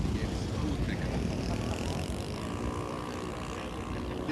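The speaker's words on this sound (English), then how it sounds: "it's powered by an OS-90 4-stroke engine" A radio-controlled model airplane powered by an OS-90 four-stroke engine drones steadily at moderate distance, a continuous engine hum over outdoor background noise.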